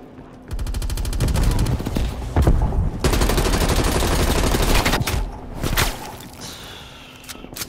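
Rapid automatic gunfire from the Call of Duty Cold War video game comes in loud, dense bursts that stop and start over several seconds, with sharp whip-like cracks in between.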